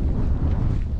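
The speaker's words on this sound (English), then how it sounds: "It's very windy." Strong wind buffets the microphone on a windy hilltop after a flight, a steady loud low roar with gusty swells throughout and no voices.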